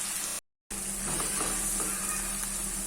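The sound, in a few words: raw mango prawn curry frying in pan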